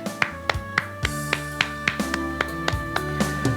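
Congregation clapping during a church worship service, a rhythmic run of sharp, evenly spaced claps over a sustained organ or keyboard chord, moderately close and fairly quiet, with no speech.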